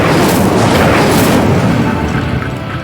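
The Incendio fire spell in Hogwarts Legacy bursts out as a loud, roaring whoosh of flame that fills the moment and slowly tails off over a few seconds.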